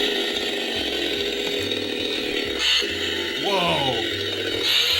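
A prop chainsaw styled after the 1974 Texas Chainsaw Massacre runs with a close, buzzing mechanical rattle and pulsing low chug, rising in pitch a few times as it revs.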